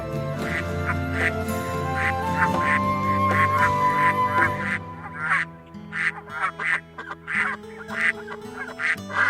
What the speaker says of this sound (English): they're definitely quacking, so I assume they're ducks